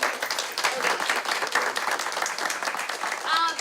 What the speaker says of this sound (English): So thank you, and please clap, and for them.